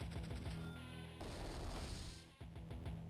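A cannon fires in the Advance Wars 2 video game, a dense burst of booming, crackling blasts that runs on continuously, dips briefly, then strikes again loudly with no talking over it.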